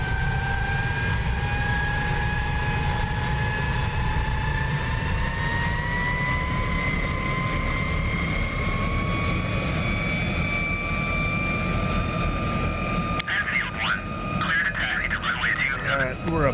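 An F-35B jet engine spools up in the DCS flight simulator, with the aircraft held on its brakes: a steady, loud roar carries whining tones that climb slowly in pitch, then the sound shifts and turns rougher near the end. Someone talks throughout.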